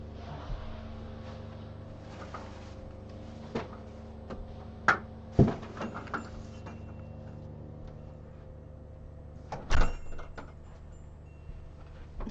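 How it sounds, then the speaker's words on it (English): An indoor door is pushed shut with a couple of sharp knocks and thuds, one near the middle and a louder bang near the end, set against a steady low hum with no talking. "let me close the door"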